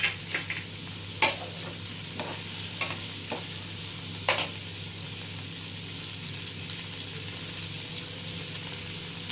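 Onion, garlic, tomato, green chilli and cashews roast in a pan with a steady soft sizzle. A few scattered clicks and scrapes of stirring come through near the start, then the frying runs on alone.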